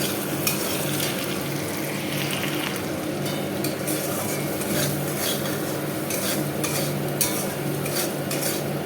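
Oats khichdi with salt and turmeric stirred in a pan, a steady scraping and clinking of utensil against metal over a low continuous sizzle, close and even throughout.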